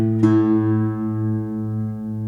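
A sustained, loud guitar note rings out after a sharp pluck, slightly out of tune, with a slow, regular beating warble pulsing through the steady tone as it gradually fades.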